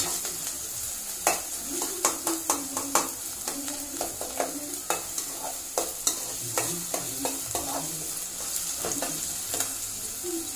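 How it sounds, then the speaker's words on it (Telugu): Onions fry in a pan with a steady low sizzle while a utensil scrapes and stirs them in repeated sharp strokes, close up and without speech. "ఆనియన్స్ దూరగా వేగేలాగా మనం దీన్ని చూసుకోవాలి."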